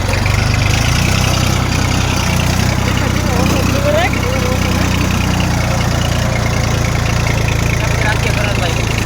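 A tractor engine idles steadily at close range, a low continuous rumble that holds for about nine seconds with a brief higher chirp partway through.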